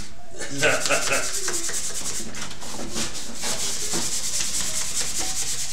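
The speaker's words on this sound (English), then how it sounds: "sand the shelves there that don't ever hold anything" Continuous close rasping of sandpaper worked back and forth over wooden shelves, loud and steady with rhythmic strokes throughout and no voices.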